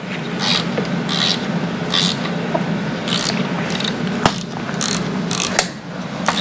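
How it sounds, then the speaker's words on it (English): A ratchet turns a fastener on the front grille of a Ford Bronco Badlands, giving repeated bursts of rapid, loud clicking close by, separated by brief pauses and a couple of sharp clanks. "I'm unscrewing this critter over here."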